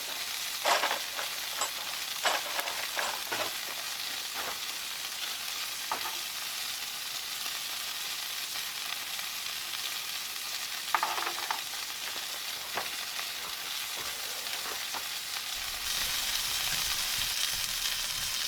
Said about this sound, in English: Look at them sizzling away.